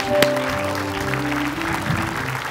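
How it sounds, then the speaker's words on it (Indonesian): A studio audience claps for Pak Mahfud on a talk show, a steady patter of applause that runs loud and close, with a sustained tonal hum and a sharp knock near the start. "Tepuk tangan Pak Mahfud"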